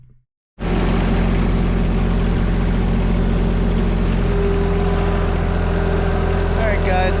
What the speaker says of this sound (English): let's go ahead, start the tractor up